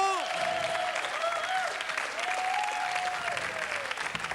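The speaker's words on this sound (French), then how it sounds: "Applaudissements" Steady applause from the audience at a live improvised comedy show, with melodic tones or whistles gliding over the dense, continuous clapping throughout.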